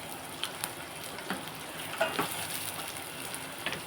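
Onions with curry leaves and salt fry gently in a pan, giving a soft, continuous sizzle with a few faint clicks from stirring.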